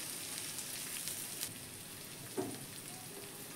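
Onions sizzle quietly in a pan over a very low gas flame, a faint, steady crackle with a couple of small pops and no talking.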